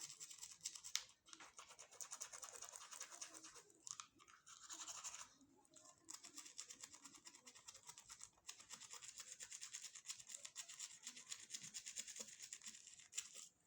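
Close, brisk toothbrush scrubbing of teeth using aloe vera, rapid rhythmic bristle scratching in long runs broken by brief pauses, fairly quiet and with no talking.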